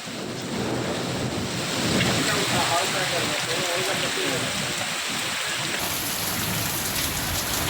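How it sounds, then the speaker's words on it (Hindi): Steady rain falling outdoors in Jamshedpur: a continuous, dense hiss of drops on surfaces, loud and close, holding level throughout with a low rumbling undertone. "1 घंटे से ज्यादा बारिश हुई"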